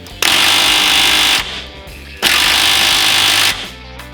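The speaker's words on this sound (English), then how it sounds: "I'm going to hit it with my impact driver" Craftsman impact driver hammering on a rusted stuck bolt in two loud, sustained rattling bursts of about a second each, separated by a short pause, close and harsh.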